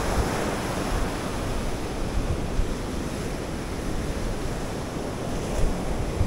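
Sea waves break and wash steadily against a beach in Ilocos Sur, a close, continuous roar of surf with wind buffeting the microphone and no talk.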